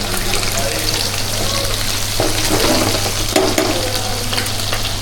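Onions frying in a pan while being stirred for a dhindo meal, a loud, steady sizzling hiss with occasional scraping stirs over a low hum.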